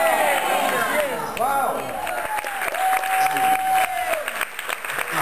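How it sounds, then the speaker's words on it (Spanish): A church congregation claps along during a worship service, dense crowd applause under a loud voice and sustained tones, continuous and fairly close across the whole stretch. "Aplauda al Rey, aplauda al Rey."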